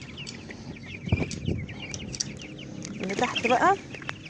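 Ducks sit under a heat lamp, giving soft scattered calls and a burst of rapid peeping near the end, while a person speaks briefly nearby.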